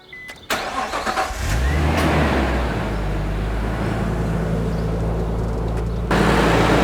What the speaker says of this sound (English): I'm going to start the car and make sure it starts.